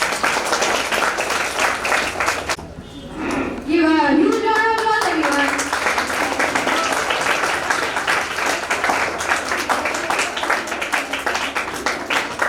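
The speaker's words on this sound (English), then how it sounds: "Give a huge round of applause, everyone." Audience applause fills a school robotics expo hall, dense clapping running nearly throughout with a short dip where a voice or tone briefly cuts through, people's voices mixed in.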